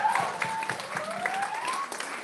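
An audience at a speech event applauds the speakers in a sustained burst of many hands clapping, fairly close and even, with a faint whistle-like tone running through it and no talk on top.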